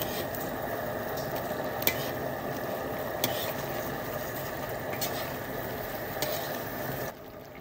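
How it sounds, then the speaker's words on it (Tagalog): Chicken curry with curry powder stirred in a pan, a steady soft sizzle and scraping under a constant background hum, with a few faint clinks, ending abruptly. "Tapos halu-haluin po natin siya"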